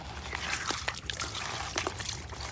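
Eggshells washed in water, with close trickling and sloshing of water, a few soft splashes and clinks over a steady wet background.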